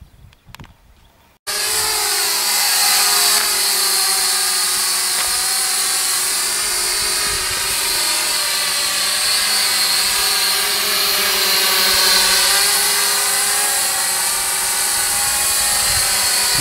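JJRC H47A foldable-arm toy drone spinning up after a short quiet start, then a loud, steady high-pitched propeller whine with slight pitch shifts as it takes off and hovers close by.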